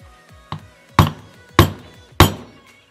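A hammer strikes a center punch to crush a rivet in the dome light connector of a MA70 Supra, giving about four sharp metallic taps roughly half a second apart, close and clear, after a couple of lighter ticks.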